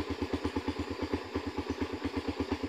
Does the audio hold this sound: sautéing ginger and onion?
no